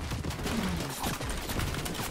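Bursts of automatic gunfire in a Fortnite competitive match, rapid overlapping shots fired in clusters at moderate distance with no voices.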